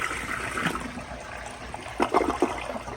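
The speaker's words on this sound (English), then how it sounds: "Alrighty, I'm gonna put the lid back on, and we'll do another flush and see if this helps improve anything." A 2012 General De Ceramica toilet flushes in a steady rush of water, with gurgling bursts toward the end, close and alone.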